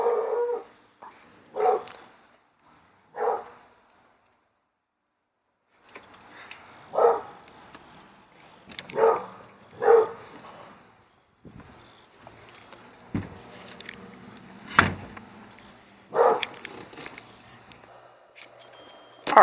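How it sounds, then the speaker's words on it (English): Neighbor's dogs barking outside, scattered single barks and short clusters of yips at a moderate distance, separated by quiet gaps and soft indoor noise. "our neighbor's dogs are out"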